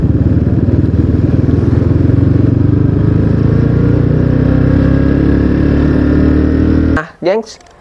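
A 2010 Yamaha Scorpio Z 225 motorcycle idles with a loud, close, steady single-cylinder thrum that cuts off near the end, followed by a brief voice.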